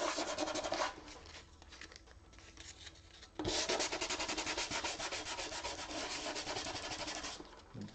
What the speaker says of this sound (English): As I'm sanding, I gotta keep moving my paper around.